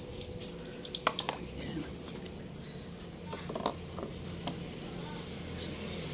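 Water sloshes and drips in a basin as a part with a replaced O-ring is dunked and checked for leaks, faint splashes and small squishy sounds over low background hum.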